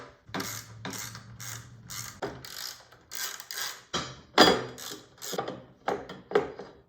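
A ratchet tool removes the bolts from the windshield mounting bracket of a 2019-2022 Indian Chieftain/Roadmaster motorcycle, giving close, repeated clicking bursts in an uneven rhythm with short pauses between strokes.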